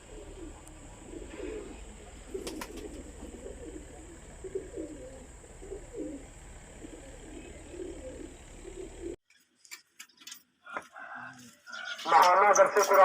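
Pigeons at a pigeon-racing event in Pakistan coo in soft repeated pulses at moderate distance over a faint hum, then the cooing stops and louder voices and clatter take over.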